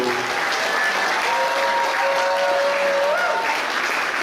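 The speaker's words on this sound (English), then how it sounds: "we really need to give a good, strong applause to the people who put this all together" A crowd gives loud, sustained applause for the organizers of a dance camp, dense and even throughout, with whistles or cheers rising above the clapping.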